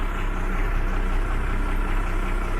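The inboard engine of a Carver boat runs steadily during fuel polishing, a constant low rumbling drone with even vibration, close and unchanging, no voices.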